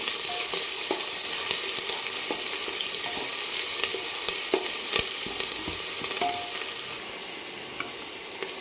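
Sliced onions sizzle steadily in hot oil as they fry toward golden brown for a chicken thali, a continuous close hiss broken by occasional stirring clicks, with no voices.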